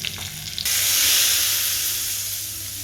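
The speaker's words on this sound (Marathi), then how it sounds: "हे बघा इथं मस्तपैकी हिंगाची फोडणी दिलेली आहे." Asafoetida tempering hits hot oil in a pan for kadhi with a sudden loud sizzle, settling into a steady, close frying hiss that fades slightly.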